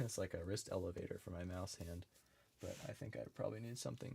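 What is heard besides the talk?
No distinct noise like a dog, phone or traffic.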